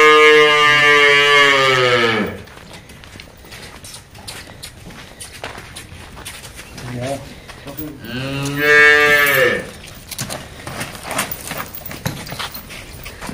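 A buffalo gives two long, deep moos, one at the start and another near the end, with quieter shuffling and hoof sounds between them.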